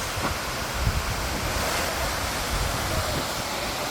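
Bolinao Falls in Pangasinan pours in a steady, dense roar of falling water, heard up close and loud throughout, with a few faint thumps underneath.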